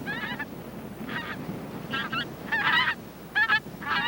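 Snow geese in a Soviet Arctic flock honk in repeated nasal calls, several birds overlapping in irregular bursts, fairly near, over a low background rumble.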